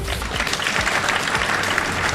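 An audience at a stand-up comedy open-mic show claps continuously, with dense, loud applause filling the whole stretch without pause.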